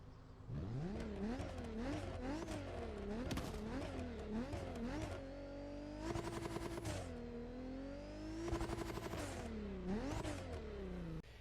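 A Ford GT EcoBoost engine in The Crew Motorfest revving up and down through gear shifts, whining and rising in pitch, with brief clattering bursts between pulls.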